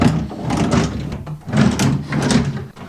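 Drawers in an empty house are pulled open and pushed shut several times, giving a run of loud sliding rumbles and knocks close by with no talking over them.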